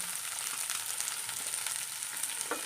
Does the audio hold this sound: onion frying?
yes